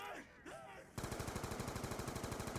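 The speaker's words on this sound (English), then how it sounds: "I can't be asked to shoot another one with the Liquefier" The Liquefier gun in the Die Rise zombie video game fires a rapid, steady stream of rhythmic pulses for nearly two seconds, loud and close. A voice talks briefly just before the firing starts.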